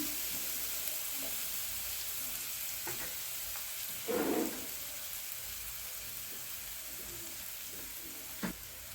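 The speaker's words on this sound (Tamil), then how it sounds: "இதை நல்லா நம்ம வதக்கி விட்டுக்குருவோம்" Onions sautéing in a pan for egg thokku, a steady soft sizzle with occasional stirring scrapes and one brief louder clatter, fairly quiet and without voices.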